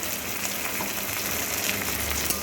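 Small mourola fish fry in hot oil with salt and turmeric, giving a steady, dense sizzle that stays close and even throughout, with no talk.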